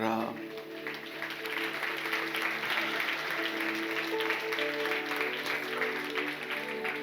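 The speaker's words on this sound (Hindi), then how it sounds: "जितनी बेहतर तालियां आपने मेरे लिए बजाई" Sustained audience clapping at a church sermon gathering in India, steady and dense for several seconds, with no voice over it.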